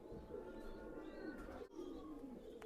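Teddy 128 breed pigeons cooing in a loft, soft low coos under a steady background hum, quiet and close.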